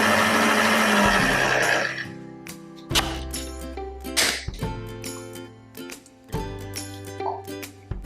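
An electric mixer beating butter into chocolate dough for Romany cream biscuits: a loud whirring motor at first, then several shorter bursts with brief pauses and soft knocks between them.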